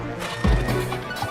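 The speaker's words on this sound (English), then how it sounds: "Horses. Horses." A horse whinnies once in a short burst amid a crowded hall at a horse show, with a thudding impact and clattering hoof-like knocks around it and steady background noise throughout.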